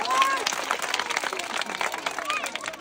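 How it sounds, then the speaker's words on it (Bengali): Audience at an outdoor women's lock-opening game applauding loudly, a dense steady wash of clapping hands from a crowd, continuous for a few seconds with some chatter mixed in. "আর সবাই একটা জোরে হাততালি দেন তো।"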